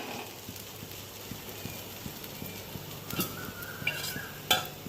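A spatula scrapes and knocks in a pan as handvo, a savoury Gujarati batter cake, is loosened around the edges and turned over. The light taps and scrapes are close, ending in a few sharper clatters.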